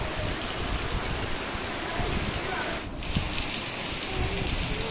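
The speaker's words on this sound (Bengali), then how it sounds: "ঝমঝম করে বৃষ্টি" Heavy rain pours down steadily, a dense, close hiss of drops drumming on surfaces, with a brief dip partway through. No one speaks.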